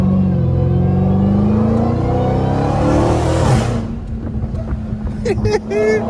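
A Hellcat Redeye on a 3 inch catback exhaust rumbles loudly nearby, a deep droning tone building and then falling away as it passes, with wind buffeting and voices talking over it.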